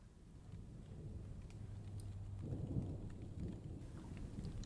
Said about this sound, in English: Do you hear that? A storm is coming.